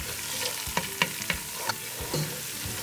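Onions and aromatics frying in a pan for Guinean smoked catfish soup, a soft steady sizzle broken by several sharp stirring scrapes and clinks, close and alone with no talking.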